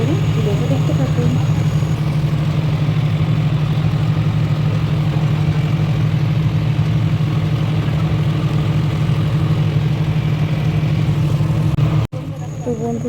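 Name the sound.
passenger launch boat engine running on Hooghly river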